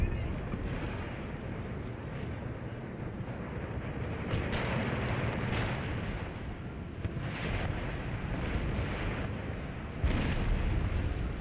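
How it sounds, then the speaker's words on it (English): Cannon fire in Empire: Total War, a continuous rumbling battlefield din of booming artillery with sharper bursts near the end, a voice talking over it. "My cannons are just pounding their lines now"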